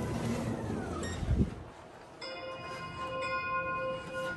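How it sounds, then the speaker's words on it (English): Chime from a Schindler 3300 XL elevator in an apartment building, a few clear electronic tones sounding over the faint hum of the moving cab, with a thud as it levels. "Newer chimes, newer button beeps."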